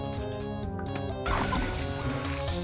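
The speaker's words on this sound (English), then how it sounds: "But I think we got most of them turned into chickens." Enemies transformed into chickens cluck and squawk in the video game Heretic, a short burst of clucking over a steady tonal music bed, the fowl calls growing louder partway through.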